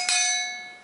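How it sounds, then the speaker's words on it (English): A cowbell mounted on a homemade stump fiddle is struck once, giving a bright metallic clank with a ringing tone that fades steadily over about a second, heard alone. "You have a block, a bell, cowbell,"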